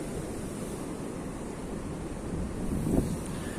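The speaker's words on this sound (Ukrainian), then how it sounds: "Бурлить вода, проходячи через турбіни." Water churning and gurgling through the turbines of a small village hydroelectric plant on an autumn day, a steady broadband rush with a slight swell toward the end, heard alone without talk.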